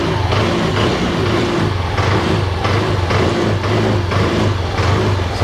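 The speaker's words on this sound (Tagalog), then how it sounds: "And then naandar na yung makina niya." A Yamaha Aerox keyless scooter engine runs steadily close by after an error 12 fault was fixed, a loud, even mechanical idle with a faint rhythmic pulse and no talking.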